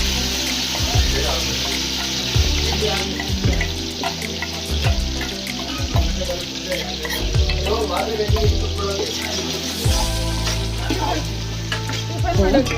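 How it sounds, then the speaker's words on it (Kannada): A ground masala of mint, coriander and green chili fries in oil for a chicken fry, giving a continuous close sizzle with scattered crackles over a low droning background, and no talking. "ಇವಾಗ ಎಣ್ಣೆ ಹಾಕ್ತಾ ಇದ್ದೀನಿ ಆಮೇಲೆ ಇದಕ್ಕೆ ಹಸಿ ಮಸಾಲೆ ರುಬ್ಕೊಂಡಿದ್ನಲ್ಲ ಪುದೀನ ಕೊತ್ತಂಬರಿ ಮತ್ತು ಹಸಿಮೆಣ್ಸಿನ್ಕಾಯಿ ಹಾಕಿ ರುಬ್ಬಿರೋದನ್ನು ಹಾಕ್ತಾ ಇದ್ದೀನಿ"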